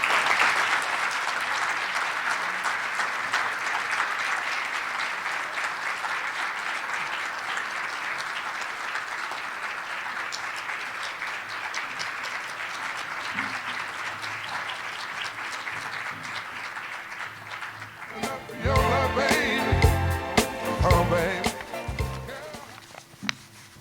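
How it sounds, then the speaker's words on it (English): Sustained audience clapping at an award ceremony honoring a graduate on stage, steady and full for most of the stretch before giving way to louder, scattered knocks and movement near the end. "let's give them another round of applause"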